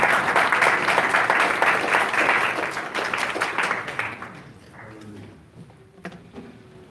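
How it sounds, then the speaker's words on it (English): A church congregation claps hands in praise, with steady, full applause from many people that holds for several seconds, then tapers to a few scattered claps and quiet. "Let's give Messiah a hand clap of praise."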